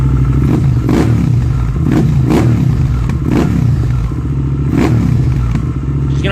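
Motorcycle fitted with a JRE exhaust pipe revving up close, loud throaty blips rising and falling about five times over a steady idle rumble, with some clatter, no talk.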